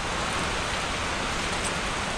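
Steady, loud roar of typhoon wind and rain, a dense unbroken wash of noise with no voices.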